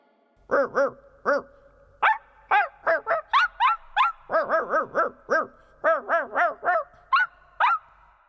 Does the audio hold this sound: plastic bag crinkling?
no